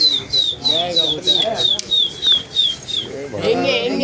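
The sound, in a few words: pigeons at a loft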